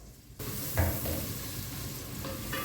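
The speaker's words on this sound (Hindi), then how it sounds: "मैंने पहले देगची में ना थोड़ा ऑयल डाला था और बटर डाला था और एक बड़ी प्याज मैंने ना चॉप करके वो शामिल की" Chopped onion frying in oil and butter in a pot, a continuous close sizzle with a brief stirring scrape partway through.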